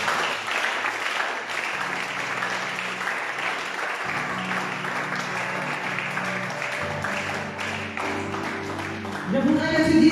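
A church congregation breaks into sustained applause acclaiming God, a dense continuous clapping texture lasting throughout with a held tonal hum beneath and a louder surge near the end.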